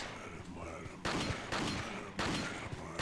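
Three sharp gunshots in Resident Evil 4 ring out about a second apart, each a loud crack with a short echoing tail, while a player talks quietly in between.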